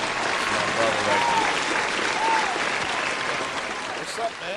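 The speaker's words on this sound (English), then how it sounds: "let's give him another round of applause" A studio audience on a morning radio podcast applauds a guest, with continuous, moderately loud clapping lasting a few seconds, with faint voices and a whoop mixed in.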